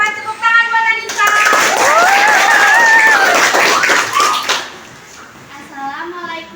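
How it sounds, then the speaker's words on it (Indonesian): Students applaud at a junior high school, a burst of clapping mixed with children's voices and a whistling tone, fading after a few seconds as a kid speaks. "Tepuk tangan buat Anissa."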